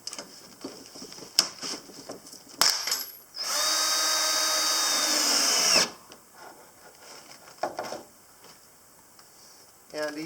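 A power drill drives screws into a simple front-door entry awning, sounding as one sustained, loud whirring burst of about two and a half seconds. Short knocks and handling noises come before and after, and faint talk is heard around it.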